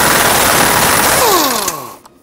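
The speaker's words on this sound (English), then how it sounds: "we have to take out these two 14 millimeter bolts" Power ratchet or impact tool buzzing loudly on 14 millimeter bolts in a Toyota Corolla cross member, a rapid mechanical whirr that winds down in pitch and stops near the end.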